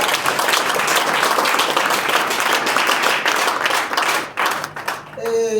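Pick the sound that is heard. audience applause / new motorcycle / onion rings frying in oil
audience applause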